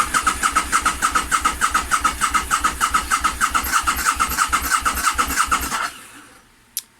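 A motorcycle engine with no fuel cranks over and over without catching, a fast rhythmic chugging that runs for about six seconds, then stops, leaving quiet and a single sharp click.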